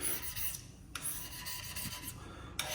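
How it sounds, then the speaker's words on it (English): Steady close scraping as rust is worked off a cast iron bandsaw table on a MiniMax S45, a continuous gritty rasp with a couple of sharper strokes standing out, fairly quiet and alone. "you'll start to see some of maybe the rusty spots kind of scraping up"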